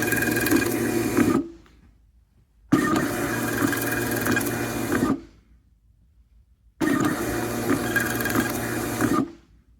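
A PC45TT label printer runs three bursts of printing and feeding, each about two seconds of steady mechanical whirring and clatter, separated by short silences, close and fairly loud.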